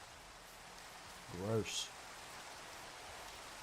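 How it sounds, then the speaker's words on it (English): Steady rain hisses softly and evenly in the Minecraft game on a survival multiplayer server, with a brief spoken word rising over the constant downpour. "Oh, it's raining?"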